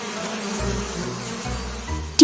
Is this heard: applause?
no